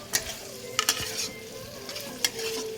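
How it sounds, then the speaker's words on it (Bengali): Fried paneer goes into a pan of sizzling spice paste, a steady close sizzle broken by three sharp clanks of a spoon against the pan. "এবার আমি ভেজে রাখা পনিরটা দিয়ে দেব"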